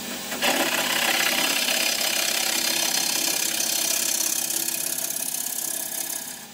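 A wood lathe spins a workpiece for a sword part, giving a steady close motor whir with a faint rubbing tone that holds evenly before winding down at the end.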